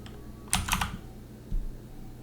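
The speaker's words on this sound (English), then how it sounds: "I'm just going to type in bedroom." Two short bursts of typing on a computer keyboard, a quick cluster of close key clicks followed by a lone tap a second later, entering a room name while drafting floor plans in Revit.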